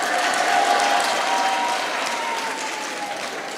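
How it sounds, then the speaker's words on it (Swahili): Audience applause fills a seminar on finance and investment, a dense, steady wash of many hands clapping at once that holds evenly for several seconds before easing slightly. "Pigani makofi sasa."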